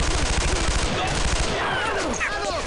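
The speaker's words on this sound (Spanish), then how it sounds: "¡Ay, no, ametralladora!" Sustained machine gun fire in the World War II shooter Brothers in Arms: Earned in Blood, loud rapid bursts of shots overlapping one another, with a shout over the fire.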